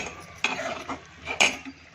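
Masala being stirred and roasted in a pan for an onion, potato and soyabean curry, with a few scraping clinks of a spoon against the metal pan over a faint sizzle, close and without talk.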